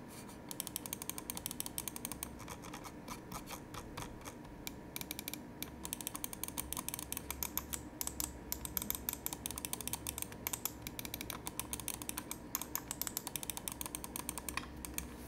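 Lamzu Atlantis gaming mouse switches and scroll-wheel encoder clicking, a fast dense stream of small crisp clicks and ratchety ticks running steadily throughout, close and fairly quiet, with no talk.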